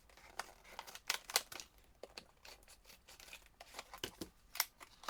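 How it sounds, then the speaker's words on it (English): Scissors cutting open a small vial package, with several quiet snips and crinkles of plastic wrapping in an irregular rhythm, close and faint, with no talking. "I'm just going to kind of cut this open."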